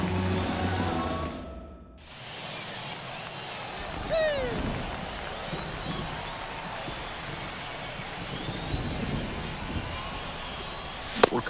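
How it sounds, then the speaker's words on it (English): Heavy rain pours down on the ballpark in MLB The Show 24, a steady broadband wash of noise that runs the whole time beneath game commentary and crowd ambience, briefly dipping quiet before returning. "the way this rain is coming down"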